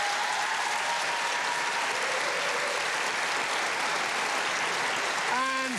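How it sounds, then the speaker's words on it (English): Studio audience on a 2011 Ten Network TV panel show applauds a guest, a steady, dense wash of clapping that holds at full strength throughout with faint music tones near the end. "Give a warm round of applause to John Elliott."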